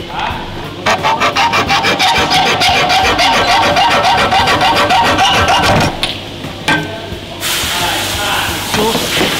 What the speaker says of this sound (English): once I finished cutting now, just taking the excess off